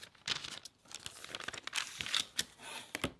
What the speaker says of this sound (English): Using my rotary cutter and ruler, I'm going to trim on the dotted line all the way around.